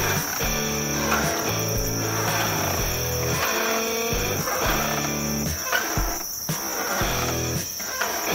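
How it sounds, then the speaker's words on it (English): Cicadas buzz outdoors in a steady, high, continuous drone that holds for the whole stretch, with louder lower tonal sounds rising and falling beneath it. "Super cicada-y out here."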